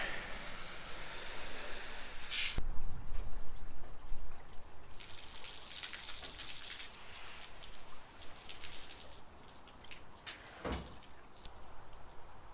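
Water sprays and patters over a kayak during a spring-prep rinse, a continuous hissing wash that shifts in intensity, with a couple of sharp knocks partway through; no talking.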